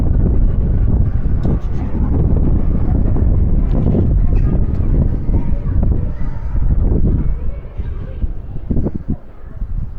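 Strong wind on a rainy day at Alton Towers buffets the microphone with loud, rumbling gusts throughout, and a voice seems to speak faintly beneath the roar.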